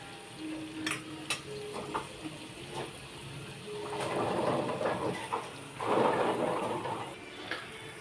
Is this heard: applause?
no